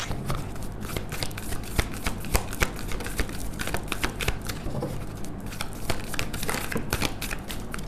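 Tarot cards shuffled by hand in a steady riffling and tapping rhythm, close and crisp, running continuously with no talking.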